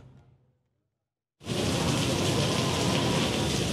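Steady heavy rain begins abruptly after a brief near-silence, a dense broadband hiss of downpour on surfaces that stays loud and continuous to the end.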